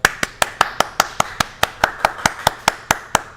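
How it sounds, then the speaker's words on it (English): An auctioneer claps his hands at an arcade games and prize redemption auction: about fifteen sharp, evenly spaced claps in a steady quick rhythm, close and alone. "All this exciting clapping I'm doing, I can't hear what you're saying."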